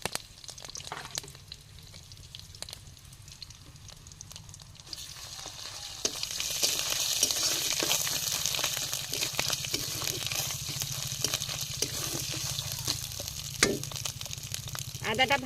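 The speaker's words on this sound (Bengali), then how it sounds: "আদাটা ভাজা হয়ে গেছে," Ginger paste fries in hot oil with cumin and curry leaves, a soft crackling sizzle that swells into a louder, steady hiss with occasional stirring scrapes and small pops.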